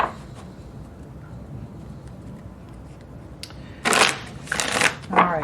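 Tarot cards are shuffled by hand in a few quick riffling bursts near the end, after a quiet stretch of faint room noise.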